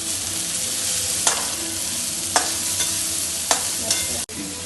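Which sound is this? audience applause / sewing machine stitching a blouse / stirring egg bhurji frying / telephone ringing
stirring egg bhurji frying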